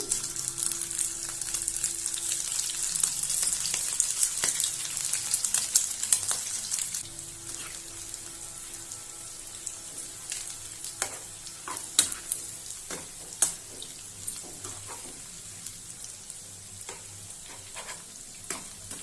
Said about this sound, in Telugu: ఇప్పుడు ఆయిల్ కూడా హీట్ అయిపోయింది సిమ్లోనే ఉంచుకొని వేయించుకోండి ఇలా ఇవన్నీ ఆయిల్లో వేసేసి వేయించుదాం